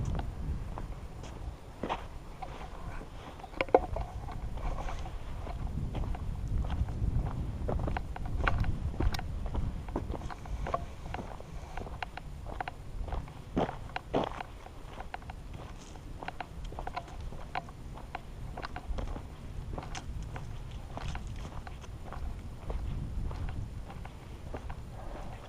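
Footsteps crunch steadily outdoors along a ditch, faint and close, with light wind buffeting the microphone and occasional knocks throughout.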